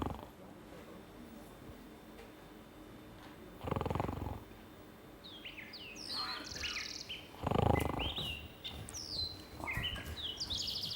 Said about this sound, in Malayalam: കിളി ശബ്ദം വരണം ശബ്ദം